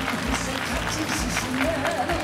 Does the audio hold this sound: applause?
yes